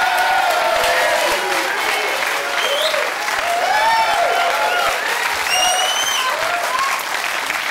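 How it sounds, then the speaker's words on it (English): A game show studio audience gives a round of applause, loud and sustained clapping with a few cheers and voices rising above the crowd. "Give her a round of applause."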